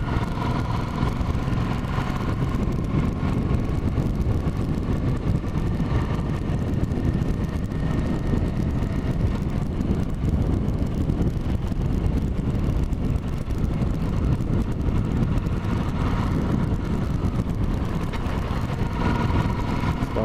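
A motorcycle engine lugs at low revs while riding at about 50 km/h through a 70 km/h zone coming into Leopold, a steady close drone with rushing wind noise throughout and no talking.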